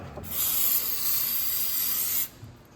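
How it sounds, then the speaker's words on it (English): An aerosol can of brake cleaner sprays onto rusty brake and axle parts of a Hyundai Santa Fe, a single loud, steady hiss lasting about two seconds before cutting off abruptly. "I'm just gonna give them a squirt with some brake cleaner"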